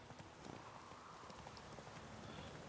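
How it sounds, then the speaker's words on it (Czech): Hooves of a horse clip-clop in a steady rapid rhythm in the video game The Witcher 3, faint and continuous with light background noise. "No tak já zavolám koně, ať je to rychlejší."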